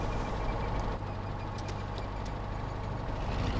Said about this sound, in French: Mais pareil, on maintient 3, 4, 5 secondes, on maintient le démarreur.